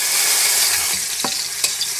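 Cashews and raisins frying in white cooking oil in a pan, a steady close sizzle broken by a few brief stirring scrapes, with no talk.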